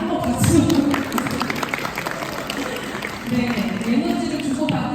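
Audience applause in a lecture hall during a Korean talk on healing and resonance, a steady mass of clapping rising and falling over several seconds, fairly loud and close, with a speaking voice over it.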